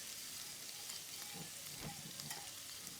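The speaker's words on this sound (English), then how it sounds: "you're not wanting to brown this garlic. You just want to stir it around." Garlic gently stirred in a hot pan for a sun-dried tomato Alfredo gives off a quiet, constant sizzle, with soft stirring scrapes and small pops coming and going.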